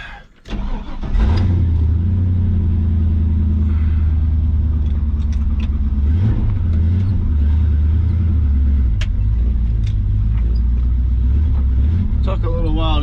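A square body Chevy truck with a swapped 6.0 LQ4 V8 cranks and fires up, then rumbles loudly and steadily close by, with rev swells while driving and a voice talking briefly.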